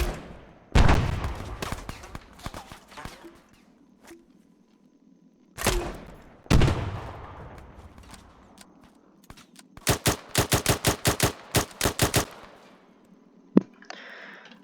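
Gunfire from a 3CB BAF mod weapon in the Arma 3 video game: a loud single shot, then short bursts spread across the span, and later a rapid run of about a dozen evenly spaced shots, each followed by a lingering echo.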